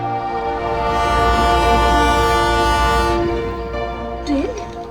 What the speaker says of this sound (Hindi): ये ट्रेन अब तक मरी नहीं, फिर से चल पड़ी।